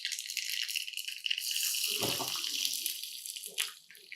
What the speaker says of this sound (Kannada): ಈಗ ಸಾಸಿವೆಯನ್ನು ಬಿಡಿ, ಎಣ್ಣೆ ಕಾದಿದೆ. ಚಟಾಪಟ ಅಂತ ಇದೆ.